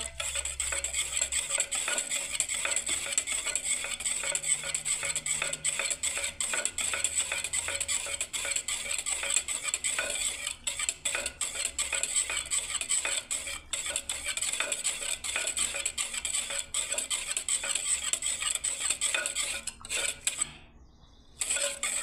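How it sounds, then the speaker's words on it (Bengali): A spoon keeps stirring milk into a mango shake in a container, making a steady, rapid ticking clink that continues for the whole stretch, close up and without any talk. "আবার ঘাটতে থাকবো"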